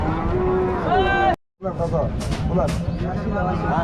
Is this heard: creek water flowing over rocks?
no